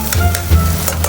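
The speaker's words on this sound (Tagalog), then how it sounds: "Lutuin lang natin siya ng konti pa." Sardines sizzle in a frying pan for pasta ala pobre with tausi, a steady close crackle with faint stirring and no talk.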